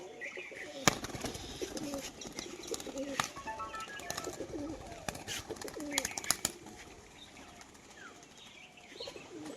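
Pigeons, including a fancy-coloured male and a female, coo and flutter their wings in a loft, with soft repeated coos, scattered wing claps and rustling close by, and occasional faint voices in the background.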